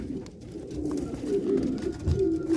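French Mondain pigeons coo softly in a loft in Damietta, a low murmuring call that runs steadily through the moment without talk.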